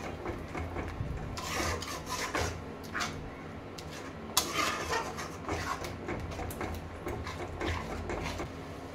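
Palak paneer being stirred in a pan, a steady close scraping and rubbing of a spoon against the metal with short louder strokes, no voices over it.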